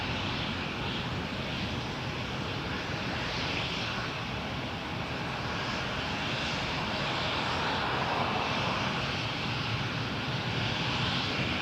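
Steady roar of Air Canada Airbus A321 jet engines at Toronto Pearson airport, a broad continuous rumble with airy hiss throughout, moderately loud and unbroken, with no voices.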